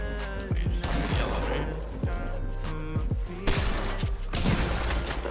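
Rapid bursts of gunfire from a Fortnite firefight during a 2v2 competitive match, sharp repeated shots with thumping impacts close by, steady and loud over a continuous background of game noise.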